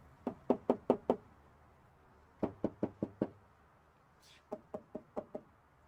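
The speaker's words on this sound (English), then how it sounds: "this is the sound after we've put the Dynamat and the Dynaliner on the bedside" Knuckle knocks on the side of a Toyota Tacoma pickup bed lined with Dynamat sound deadening, three quick groups of four or five dull, damped thuds, close and fairly quiet, with no talking.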